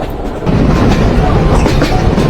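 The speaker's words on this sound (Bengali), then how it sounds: "শতাক্ষ এক্সপ্রেস ট্রেনের গতি দেখা যাচ্ছে নব্বই কিলোমিটার" The Kapotakkho Express train travelling at 90 km/h between Khulna and Rajshahi, a loud, dense rumble of wheels and carriage noise heard from on board, rising after a brief quieter start.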